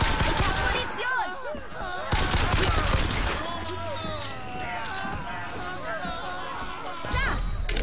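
Rapid gunfire in the video game Bioshock Infinite, repeated shots and clanging impacts through a busy combat mix, with someone talking over much of it.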